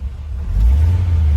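A truck engine with a new NV3500 transmission rumbles low and steady from inside the cab, with a deep, quieter exhaust drone rising slightly over a brief moment.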